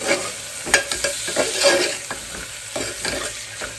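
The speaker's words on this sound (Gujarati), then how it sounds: "હવે આપણે આમાં છે ને લીલી તુવેર નાખી દઈએ બધી જ." Fresh green pigeon peas tipped into a hot pan of spiced oil and stirred, giving a soft continuous sizzle with scattered scraping and clattering strokes of a spoon, close by and fairly quiet.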